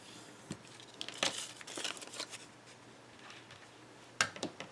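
Paper being folded and cut for a handmade bow card gives soft scattered rustles, crinkles and snips, faint and close, with a couple of sharper crisp strokes near the end.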